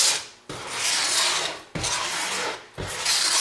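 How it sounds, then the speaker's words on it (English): Sandpaper rasps back and forth across a pool table bumper corner in three long, even strokes with brief pauses between them. The scratchy friction is close and fairly loud, with no voices. "I'm just dragging it back and forth across there, not getting real serious about sanding it."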